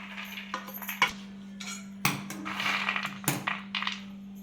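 Roasted peanuts being scooped out of a pan, with scattered clinks and metallic scrapes of utensil on pan, irregular and close, over a faint steady hum.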